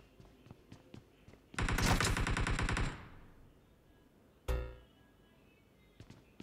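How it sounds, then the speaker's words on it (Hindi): Automatic gunfire in the mobile battle royale game BGMI: a loud sustained burst of rapid shots lasting over a second, then a single heavy blast and a few faint distant pops. "कहाँ से आ रही है फायरिंग?"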